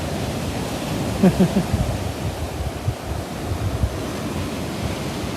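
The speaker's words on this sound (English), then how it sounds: "The little waves are still coming up the beach. She's getting all foam and that breaking up now." Small waves break and foam steadily on a beach at a seaside promenade, a continuous broadband wash with gentle surges and a few brief bumps, fairly close and alone.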